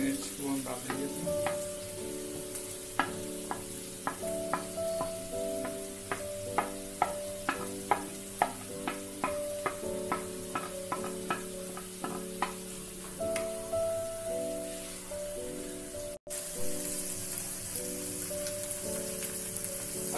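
Onion, tomato, chopped coriander and green chilli fry in a pan, a steady close sizzle with regular ladle taps and scrapes against the pan, with a steady tonal hum underneath and one brief dropout.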